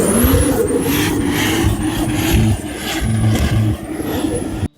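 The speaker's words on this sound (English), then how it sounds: "And here we have a 600 wheel horsepower" A 2JZ-swapped Nissan Patrol making 600 wheel horsepower, running loud and close with a steady engine drone and rising and falling turbo whistles, with dips in power near the end.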